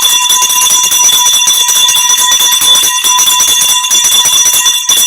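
A bell rings loudly and steadily on a live broadcast show, bright sustained tones held throughout with no talk over them.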